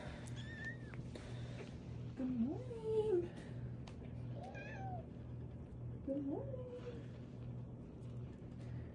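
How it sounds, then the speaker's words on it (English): Several kittens meow in thin, rising and falling cries, a few separate calls spread over the clip against a steady low hum, with quiet talk in the background. "No, they all meow."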